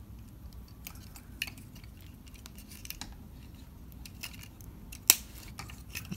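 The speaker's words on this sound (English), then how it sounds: "We're just going to fold them on the double jointed elbows and tab that into place" Plastic arms of a Mastermind Creations R-27AM Calidus Transformers figure folding at double-jointed elbows, small faint clicks and ticks scattered over several seconds, ending in one sharp snap as a tab seats into place, with no talking.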